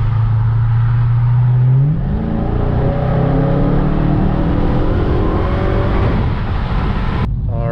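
A 2020 Dodge Charger Hellcat Widebody Daytona drives along with a loud, close engine, its note climbing smoothly through the revs as it accelerates, then cutting off sharply near the end.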